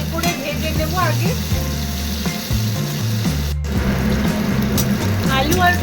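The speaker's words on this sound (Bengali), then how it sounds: "আলু আর গাজরটা প্রায় ভাজা ভাজা ভালোই হয়ে গেছে" Potatoes and carrots fry in a pan with salt and turmeric, giving a constant sizzle, while tonal music plays over it and a brief gap breaks in partway through.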